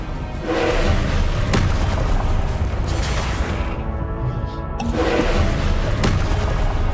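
Booming blasts from Confringo and Incendio spells in Hogwarts Legacy rumble heavily and continuously, with sharp impact thumps spaced a second or so apart and a brief lull before the blasts resume.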